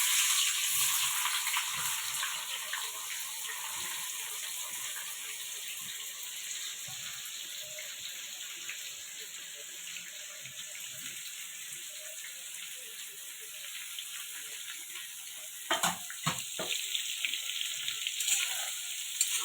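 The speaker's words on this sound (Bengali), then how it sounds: "পেঁয়াজগুলো এবার আস্তে আস্তে ছেড়ে দেবো।" Onions slide into hot oil already holding four bay leaves, producing a continuous hissing sizzle that sounds close and steady, with a brief burst of clattering near the end; no one speaks.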